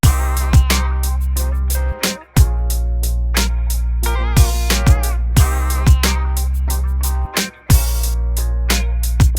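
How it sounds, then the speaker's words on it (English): Old school hip hop beat programmed in FL Studio, punchy drums and deep bass with a shaker carrying reverb and delay layered over the groove, loud and full, with no talking. "Then I added this shaker right here."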